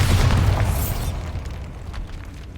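Bombarda spell explosion in Hogwarts Legacy, one loud close boom with a bright crackling burst at the start that fades into a rumbling tail over a couple of seconds.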